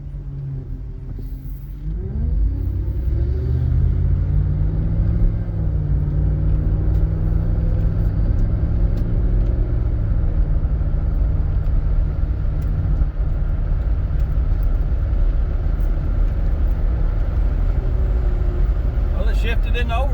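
A 4.6 DOHC engine drone with a suspected blown head gasket, in an old Fairmont wagon: a steady loud cabin rumble as the car drives, with rising engine harmonics that drop and settle as it shifts into overdrive.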